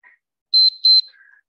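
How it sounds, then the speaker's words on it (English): Two loud electronic beeps from an exercise interval timer during a Pilates fitness class, each a steady tone lasting about a sixth of a second, with a short gap between them and faint softer tones before and after. "Now we will hear the beep, and they will hear the beep online as well."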